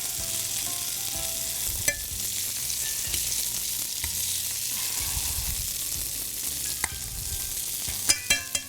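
Meatballs frying in a pan, a steady close sizzle with occasional pops and light stirring clinks, no talking.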